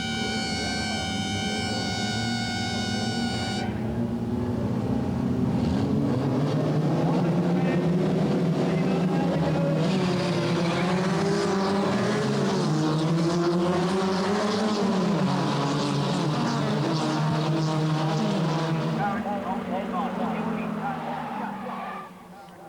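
Formula First single-seater race cars battle wheel to wheel on a circuit during a 10-lap championship race, engines droning and rising in pitch as they pass, loud and continuous with shifting tones throughout.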